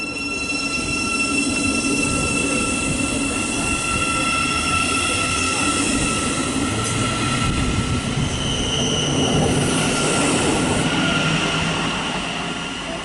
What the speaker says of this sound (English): departing now is the 1127 Thameslink service to Brighton